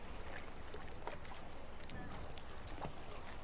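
A fishing boat in Kakinada harbour rocking on the waves, with soft continuous water lapping and sloshing against the hull under low wind noise, faint and steady.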